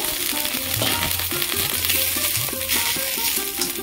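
A little oil and water in a hot nonstick wok on a gas stove hiss and sputter loudly and evenly, a dense sizzle with faint stirring scrapes throughout.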